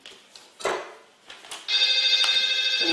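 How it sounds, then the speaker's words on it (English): A mobile phone starts ringing partway through during a live art demonstration, a loud steady electronic ring that follows a few faint rustles and clicks. "And there's another mobile phone going off."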